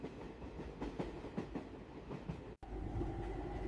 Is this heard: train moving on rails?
yes